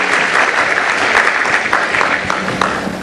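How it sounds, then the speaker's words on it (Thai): Steady applause from an audience welcoming a panel speaker at a Thai tourism trend talk event, dense and sustained clapping throughout with no talk over it. "ขอเสียงปรบมือต้อนรับด้วยค่ะ"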